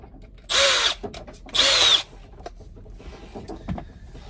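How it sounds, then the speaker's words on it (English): Two short bursts of a power drill whirring as it drills plastic, each about half a second, with quiet handling noises between and after. "I'm going to put the drill bit in the drill."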